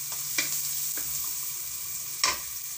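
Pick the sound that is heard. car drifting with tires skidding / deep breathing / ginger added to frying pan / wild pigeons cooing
ginger added to frying pan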